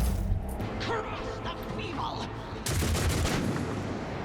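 Gunfire from a turn-based Warhammer 40k: Rogue Trader battle, a burst of shots and impacts mixed with game effects, with a louder volley near the end under someone talking.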